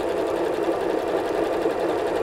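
A sewing machine stitches quilt pieces from a charm-pack quilt kit, its steady whirring hum running loud and close without a break.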